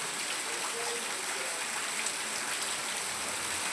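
Steady rain pours onto a flat rooftop terrace in a village, a dense, even wash of drops and splashing that holds constant throughout without pause, with no voices over it.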